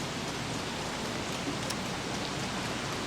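Steady rain falls in the game Don't Starve Together, a dense, even hiss of drops hitting the ground that carries on unbroken at moderate level, with no talk over it.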